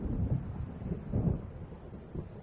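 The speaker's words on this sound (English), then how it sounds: "It seems there's a storm coming." Low rolling thunder from an approaching storm in the video game Alan Wake, a deep, muffled rumble swelling in a few soft waves with a faint rain-like hiss.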